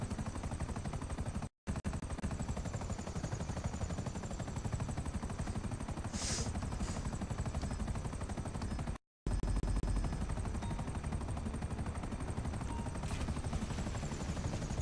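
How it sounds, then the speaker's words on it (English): A helicopter in the video game GTA V whirs with steady rotor drone throughout, loud and close, broken by two brief silent gaps and a few sharp bursts that may be gunfire. "Got to fly around a helicopter and go to locations and just drop off flyers."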